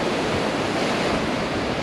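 Steady roar of ocean surf breaking along the Cozumel shoreline, a dense continuous wash heard up close with wind buffeting the microphone and no speech.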